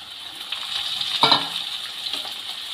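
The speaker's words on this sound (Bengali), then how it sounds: "আলু আর ঝিঙে ভালো করে ভেজে নেব" Potatoes and sliced ridge gourd fry in oil in a pan, giving a steady close-up sizzle with a brief louder crackle midway as the pieces are moved.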